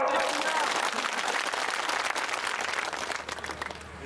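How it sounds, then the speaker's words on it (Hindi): A large crowd applauds steadily at an outdoor election rally in Pohri, Shivpuri, a dense continuous wash of clapping that stays loud throughout and tapers only slightly at the end. "ताली बजाओ।"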